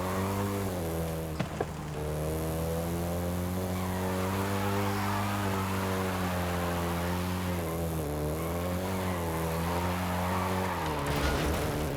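Volkswagen Golf GTI driven in Forza Horizon 5, its engine a steady loud harmonic drone that rises and falls with revs and shifts, with faint tire noise and no talk.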